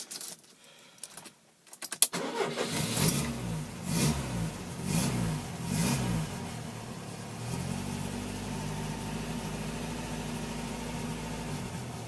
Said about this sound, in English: It seems to be starting happy enough at the minute.